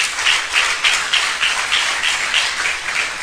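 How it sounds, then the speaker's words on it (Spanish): A church congregation applauding for a sermon on the dead: steady, dense hand clapping with a gentle pulsing swell, filling the room evenly at close range, with no talk over it. "Denle un aplauso al Rey por eso."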